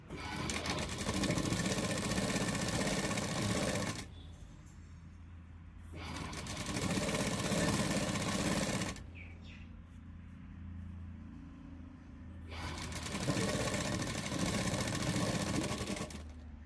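A sewing machine stitching a half-inch seam on a princess-cut garment: loud, close, steady motor whir and needle clatter in three long runs, with quieter pauses between them.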